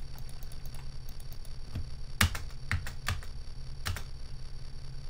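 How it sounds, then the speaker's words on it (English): Keys clack on a computer keyboard in scattered presses, with several sharp taps standing out over a soft steady background hum and no voices. "I have pressed every single button on the keyboard for this."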